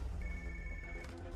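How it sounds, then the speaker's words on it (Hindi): A telephone rings in an office, a steady electronic tone held for just over a second against a low background hum, with no talk over it. "सोफिया, तुम ALX ऑफिस को फोन करो, जरा उनसे इंक्वायरी करना"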